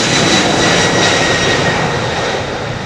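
A Boeing 767 jet airliner roars at Heathrow, its loud, continuous engine rumble and whine filling the whole stretch with no voices.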